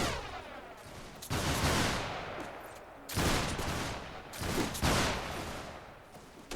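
Musket volleys in the Mount & Blade Warband 1776 American Revolution mod, loud ragged fusillades at about one, three and five seconds, each crackling burst rolling out and fading before the next.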